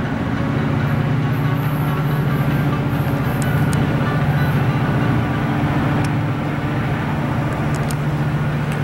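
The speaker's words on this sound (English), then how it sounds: "Another train behind him." Amtrak passenger train passing at Seabrook, Maryland, as a steady, loud rumble with continuous wheel and rail noise throughout, no talking.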